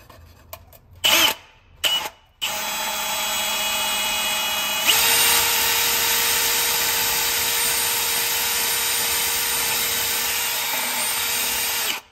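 A power drill runs continuously down a blocked drain, a steady loud whine after a few short bursts at the start, with no talk over it.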